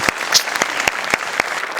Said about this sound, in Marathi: मी टाळ्या वाजवू शकतो, बाकी मी काही बोलू शकत नाही